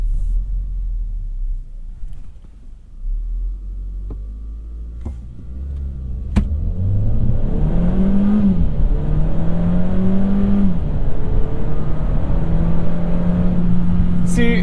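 A 2021 Kia Seltos in sport mode with traction control off launches from a standstill to 60 mph, opening with quiet idling and a few clicks before the engine swells into a loud, rising rev with audible gear shifts, heard from inside.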